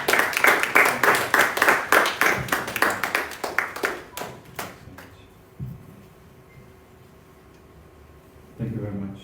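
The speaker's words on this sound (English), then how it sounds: "So with a round of applause, shall we please welcome Mr." Audience clapping welcomes a speaker at a Dyslexia Awareness Month event in an Accra hotel, a burst of crisp, rhythmic handclaps from a small crowd that thins out and dies away by midway, leaving near silence.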